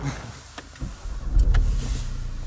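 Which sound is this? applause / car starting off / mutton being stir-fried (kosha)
car starting off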